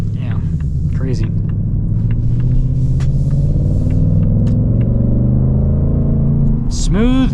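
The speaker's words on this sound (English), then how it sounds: "Smooth V8 power, naturally aspirated." A 2026 Ford Mustang GT convertible's naturally aspirated V8 gives a deep, steady rumble that swells slightly, heard up close from inside the car while people talk over it.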